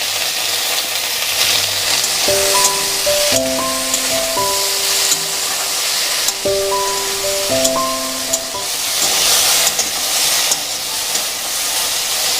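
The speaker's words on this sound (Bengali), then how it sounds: "আমরা ভেন্ডিগুলোকে তিন মিনিট মতো ভেজে নিয়েছি" Okra pieces sizzling and frying in a pan with salt and turmeric, a steady loud hiss running throughout with faint tonal clinks layered over it; no voices.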